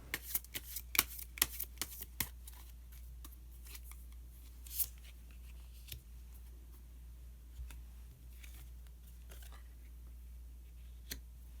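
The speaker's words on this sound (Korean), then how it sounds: "카드 한 장을 더 뽑고 이야기 계속 나오도록 하겠습니다" Tarot cards are shuffled and drawn at close range. A quick run of crisp riffling clicks comes first, then sparser card snaps and slides over a quiet background hum.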